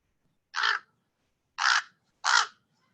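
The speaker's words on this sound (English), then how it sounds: "That bird has a lot to say today." A crow caws loudly outdoors three times, each harsh call short and clear against near silence, with a longer gap after the first.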